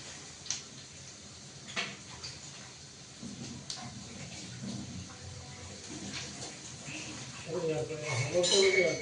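Water splashes and runs over cut potatoes being washed in a kitchen, with light clinks of dishes and a louder swish of water near the end, under people talking.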